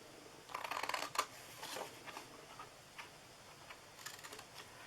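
Several crisp snipping sounds, quiet and close, come in short clusters with pauses between them, like scissors cutting through paper.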